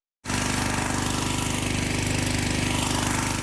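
An electric generator runs steadily after starting abruptly, giving a loud, continuous mechanical drone with a fast pulsing beat and no voices.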